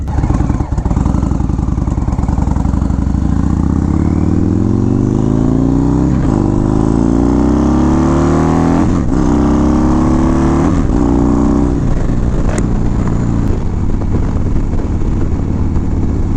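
An Indian 116 motorcycle on a ride, its engine loud and continuous throughout as it accelerates through several gear changes, the revs climbing and dropping repeatedly with no talking.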